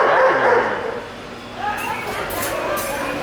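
An animated Halloween prop dog from a store display barks and yips in quick bursts, followed by busy shop ambience with faint chatter and crowd noise.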